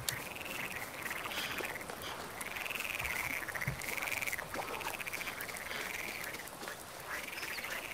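Repeated croaking frog calls in a regular rhythm, each a short warbling croak, over a low rumbling background with no voices, in Farming Simulator 19 on a Polish countryside map.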